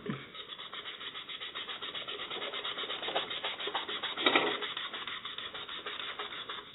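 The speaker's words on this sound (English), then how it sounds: "just gonna rub it with our magic clean eraser" A magic eraser rubs back and forth over scuff marks on an original Xbox console, a close, steady scrubbing rasp with a slightly harder stroke near the end.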